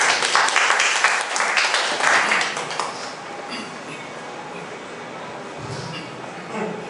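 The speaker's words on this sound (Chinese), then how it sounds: "掌声欢迎他" Audience applause at a two-minute self-introduction meetup in Kaohsiung, a dense burst of clapping that is loud for about three seconds, then thins out and fades into a quieter murmur of the room.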